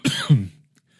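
A man coughs twice in quick succession, close and loud, with a throaty, rough quality, followed by silence.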